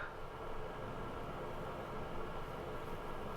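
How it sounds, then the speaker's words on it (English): A snow plow train passes through frozen Arctic mountain country in winter, giving a steady, continuous broadband rumble and hiss at an even, moderate level, with no voices. "Oh look, it's the plow train."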